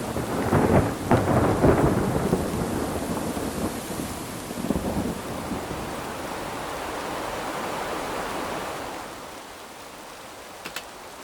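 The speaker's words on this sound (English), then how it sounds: "Do some thunder." Thunder sound effect from the Krotos Studio Genesis sound pack: deep rolling rumbles with loud cracks early on, steady rain beneath, slowly fading to a quiet wash toward the end.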